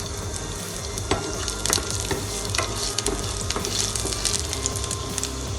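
Ginger and garlic sautéing in oil in a kadai make a steady close sizzle, with scattered clicks and scrapes of stirring across the whole stretch and no voices.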